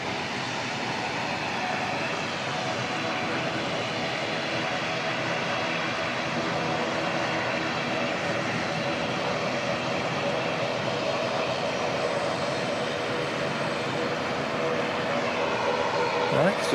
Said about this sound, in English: So we've got a Auckland Nelson ATR on the runway. Taking off on 2-3